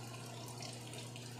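Water runs steadily into an automatic washing machine as it fills, a constant faint rush with a low hum underneath and no voices.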